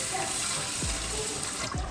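Tap water pours into a pot of rice, a continuous close rushing splash that fills the whole moment without pause.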